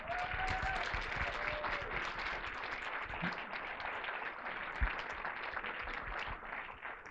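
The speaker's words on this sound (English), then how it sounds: "So if we could have another round of applause for everyone." Theatre audience applauding the cast and crew after a play, a steady, fairly faint wash of clapping from a full room, with a brief whistle-like tone early and an occasional thump.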